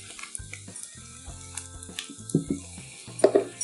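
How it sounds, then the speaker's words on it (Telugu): Sesame seeds, asafoetida, green chillies and spices stir-fried in a pan for a silk squash chutney, with soft scraping stirs and a light crackle building to a few louder clattering strokes near the end. "మాడిపోకుండా కలుపుకుంటూ వేయించుకోవాలి"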